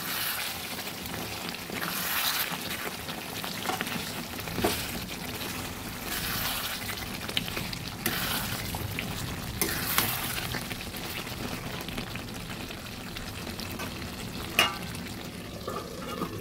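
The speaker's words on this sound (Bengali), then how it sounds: "বারবার করেই ঢাকা তুলে তুলে নেড়ে দিতে হচ্ছে।" Mutton frying in its own released juices in a covered pot, a dense continuous sizzle and bubbling with occasional stirring scrapes and clinks, close and steady throughout.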